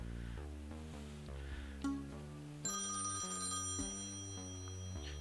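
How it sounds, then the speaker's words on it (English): A telephone rings in the horror typing video game The Texorcist, a bright electronic trill that enters partway through over steady looping background music. "The phone is ringing."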